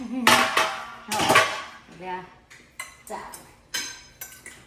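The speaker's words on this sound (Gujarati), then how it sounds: "આ વાસણ ઘસવા આપણી ટીના અમારી ટીના કહેવાય" Steel utensils clank and scrape against each other as they are scrubbed and washed, in loud, close bursts of clatter with short pauses between them, and voices come through faintly in the background.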